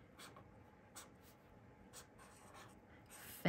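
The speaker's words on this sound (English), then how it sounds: "I'm using the fine tip to write February." A Zebra fine liner pen with a fine tip writes a word in a coloring journal, giving faint, close scratchy strokes in short bursts with brief pauses and a small knock at the end.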